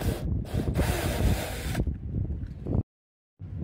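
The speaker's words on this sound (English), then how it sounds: "we got our pilot hole drilled" A power drill bores a pilot hole into a car body near the speaker wire. The grinding whir is loud and steady for nearly two seconds, then rougher as it eases off, and stops abruptly before a brief restart.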